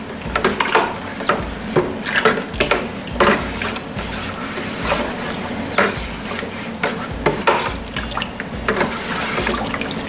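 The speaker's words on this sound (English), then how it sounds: "Now, simply, you stir the whole thing like you would shake." Mango mead mixture with water being stirred in a large container, close and steady: repeated sloshing, scraping strokes in an uneven rhythm, with no talking.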